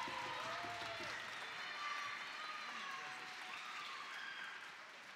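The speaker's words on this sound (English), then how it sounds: "How about one more round of applause for Sam?" Audience applause at a university big band concert, a steady wash of clapping from a crowd that holds evenly throughout, with faint cheering and a few voices mixed in.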